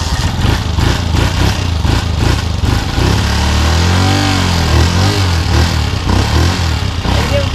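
A motorcycle engine with a fuel-flooding problem runs loud and close, a continuous rough drone with slight uneven surges and no pauses.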